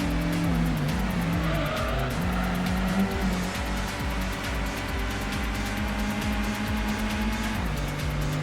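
Race cars in a Clubman Cup race in Gran Turismo on the PS1 scream along with steady, loud engine drone, shifting pitch, and repeated tire squeals throughout.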